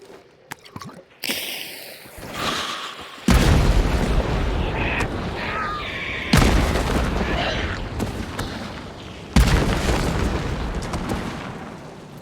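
Firebomb and dynamite explosions in the video game Hunt: Showdown, several loud booming blasts with crackling, burning tails, spaced a few seconds apart.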